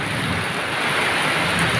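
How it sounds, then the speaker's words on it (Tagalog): Heavy rain pours down in Valenzuela, Philippines in a dense, steady roar with no pauses, loud and close. "umuulan ng malakas"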